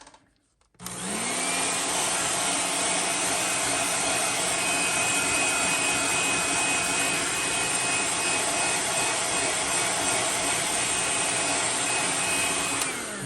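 A heat tool switches on and roars with a loud, steady blowing whoosh, setting paint on a custom swimbait lure. It runs close and unbroken for over twelve seconds with a faint high whine.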